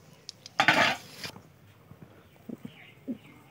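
Cut beans, eggplant and potatoes dropped into a hot pan give one loud, short burst of sizzle, then only faint soft clinks and stirring sounds.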